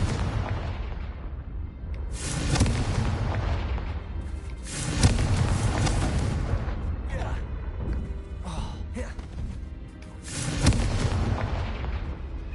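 Confringo fire spells detonating in Hogwarts Legacy, several heavy booming blasts that swell and decay over a few seconds each, loud and close, separated by calmer stretches of rumbling ambience.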